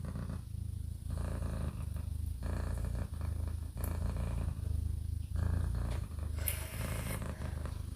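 A shedding cat purrs loudly and close up, a steady rumbling purr that pulses in even breathing cycles throughout, with no talk over it.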